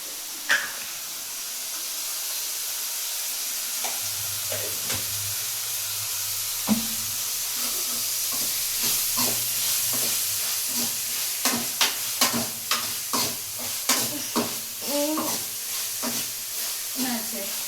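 Broad beans sautéing in a pan with salt and turmeric, a continuous close sizzle with stirring scrapes and a run of quick taps toward the end, faint voice in the background.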